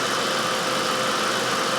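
A 2013 Toyota Corolla's 1.8L engine idles inside a garage, a steady, even hum with a faint ticking texture and no change in pitch.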